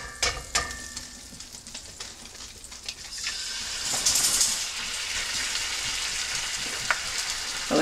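An egg frying in a hot cast iron pan gives a steady, close sizzle and crackle, swelling louder midway and holding there, with a few clanks near the start.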